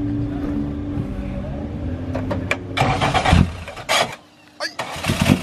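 Racing car engine cranking and firing in the paddock on a morning at Falkenberg, rough mid-pitched idle with bursts of revving, loud and close, with people talking nearby.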